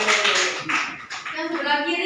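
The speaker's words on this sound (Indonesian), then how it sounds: "beri tepuk tangan dulu buat" Students in a classroom clap for a classmate during a microteaching lesson, a short burst of quick, uneven hand claps mixed with children's voices and chatter in the room.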